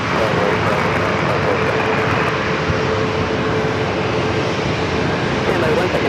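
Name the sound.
Southwest Airlines jet aircraft at San Diego airport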